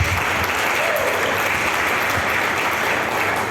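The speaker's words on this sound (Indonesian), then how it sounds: "Tepuk tangan." A large crowd at a scout gathering gives dense, sustained applause, loud and even throughout with no pauses.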